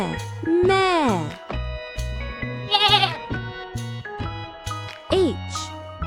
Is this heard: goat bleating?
yes